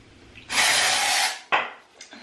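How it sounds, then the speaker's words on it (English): Batiste dry shampoo sprays into hair in one long hissing burst of about three-quarters of a second, then two shorter spritzes, close and fairly loud with no talking. "I'm gonna spray a little bit of this Batiste dry shampoo in my hair."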